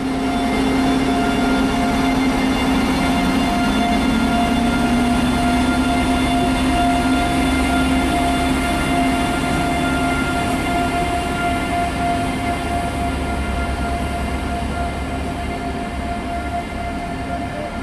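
A regional train pulls into Husum station in Schleswig-Holstein, a loud, steady rumble of wheels on rails with a sustained motor whine and a slowly shifting pitch, heard close from inside or beside the train.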